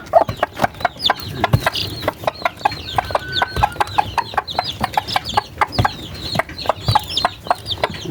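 Chickens clucking close by, including a sick chick, with rapid repeated clucks and short peeps in an irregular, busy rhythm throughout.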